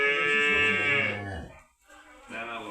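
A cow moos loudly and closely during a calf delivery on a farm, a long strained bellow that fades, then a second shorter moo begins after a brief pause.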